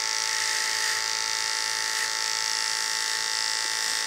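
Electric hair clippers running continuously during a high fade haircut, a steady close buzzing whine with bright overtones that holds level throughout, with no talking.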